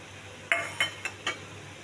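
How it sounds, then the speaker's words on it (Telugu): Drumstick pieces (munakkaya) are dropped into a curry pot of tomato, coconut and garam masala paste with four quick, close clinks against the metal, spaced about a quarter second apart. "తర్వాత ఈ మునక్కాయలు వేయాలి."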